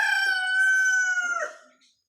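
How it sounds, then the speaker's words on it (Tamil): A rooster gives a single loud, close crow, a long drawn-out harmonic call that rises and then trails off into silence. "இந்த சேவல் தான் நம்ம வீடியோஸ்லாம் கத்திட்டே இருக்கோம்."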